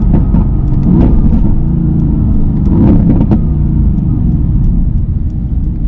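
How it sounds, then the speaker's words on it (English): A Mercedes-AMG GT engine revs loud and close through downshifts, with a deep continuous roar broken by sharp throttle blips and crackling pops near the first and third seconds. "those downshifts are just out of this world"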